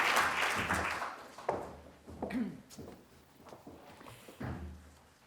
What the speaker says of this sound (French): Merci de l'applaudir et de l'accueillir chaleureusement.